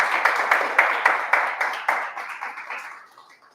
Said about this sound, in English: A big applause and a big hand to all of them.